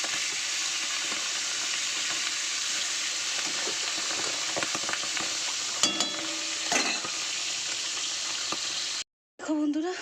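Fish heads fry in a hot pan with an even, steady sizzle and hiss, close and moderately loud, broken by a few clinks of a spatula stirring before a short pause, with a voice briefly heard near the end.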